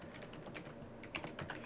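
Quick, light keystrokes on a computer keyboard patter close by in an irregular run of soft clicks, with no voices.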